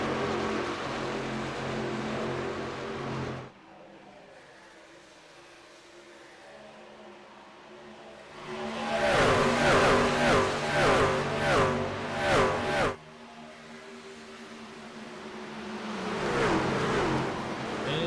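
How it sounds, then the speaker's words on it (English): Racing pickup trucks in a Truck Series playoff race at Auto Club's oval roar past in a loud cluster, engines surging for several seconds after a quieter stretch, then rising again near the end. "A cluster of trucks going in to 3 and 4."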